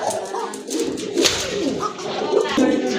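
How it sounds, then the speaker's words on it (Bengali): A male knot pigeon coos repeatedly at close range, its low throaty calls running steadily over a busy background of other birds and room noise. "এটা কিন্তু একটা নট কবুতর অলরেডি বুঝে গেছেন এটা কিন্তু খুব ভালো ডাকতেছে"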